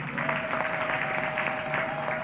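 An audience claps together at a speech by Tanzania's President Samia, a steady, dense wash of applause that holds at an even level for the whole stretch.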